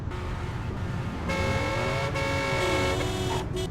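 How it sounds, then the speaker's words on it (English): Sustained car horn honking in the video game Driv3r, a steady tonal blare from about 1.3 to 3.2 seconds over engine and traffic rumble, loud and close. "this guy was honking at me and being annoying"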